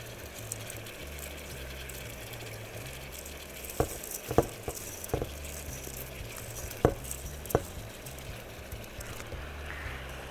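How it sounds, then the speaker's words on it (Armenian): Rice stirred and fried in a pan for Chinese pilaf crackles with a continuous low sizzle, punctuated by several sharp spoon knocks and scrapes against the pan midway through, close and with no talking. "Մի հատ լավ տապակում ենք բրինձով"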